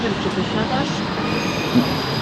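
A train runs on the railway near Narvik, Norway, with a close, steady rumble of rolling cars and a thin, high wheel squeal drawn out over it for the whole stretch.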